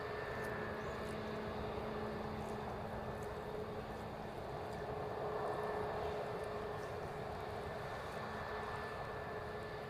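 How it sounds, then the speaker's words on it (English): A brand new British Airways Airbus A320neo taxiing at the Airbus factory in Toulouse gives a steady, continuous engine roar with a sustained whine, heard at moderate distance and without pause throughout. "There's a brand new British Airways A320neo, folks, on what looks like a taxi check."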